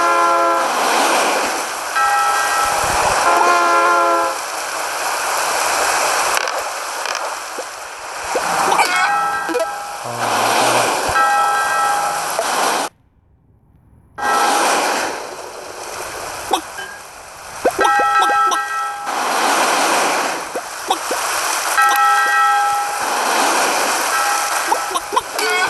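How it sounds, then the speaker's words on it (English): A train rushes past in the Crossy Road mobile game, a loud continuous roar with repeated horn blasts, cutting out briefly midway before starting again. "Train is coming."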